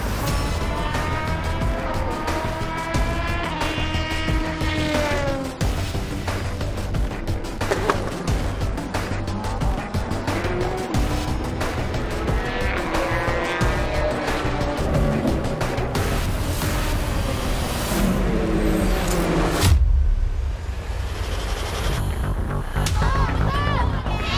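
Endurance race cars at the Shanghai circuit in the 2017 FIA WEC 6 Hours accelerate hard out of a corner, several engines sweeping up through the gears in overlapping passes, loud and continuous, with a sharp change in sound near the end.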